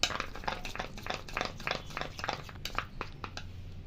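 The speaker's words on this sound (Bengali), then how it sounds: "এবার তেল আর কর্নফ্লোর পাউডারটাকে ভালো করে মিশাবো।" Oil and cornflour powder being stirred together in a bowl for paratha dough, a steady run of soft scraping and clinking utensil strokes, close and fairly quiet.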